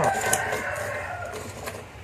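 A rooster crows faintly in the distance at the start, then trails off over a steady outdoor background hum.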